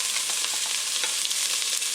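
Garlic and onion frying in a pan for mung bean stew, a dense, steady sizzle heard up close with faint stirring scrapes and no talking.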